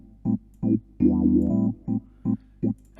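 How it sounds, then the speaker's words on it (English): Electric piano in Ableton run through a crossover phaser, playing short chord stabs with one held chord that audibly bends and sweeps in pitch; close and clean, with no one talking. "you can use any kind of phaser, but I've used the crossover phaser"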